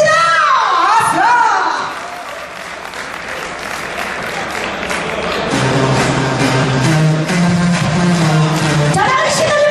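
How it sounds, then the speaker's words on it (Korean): An audience applauds and cheers at a 30th graduation anniversary reunion for a high school class as a dance team is welcomed. The clapping is loud, dense and sustained, with shouts and a voice near the start. "자, 우리 루미너스 팀입니다. 박수 부탁드리겠습니다."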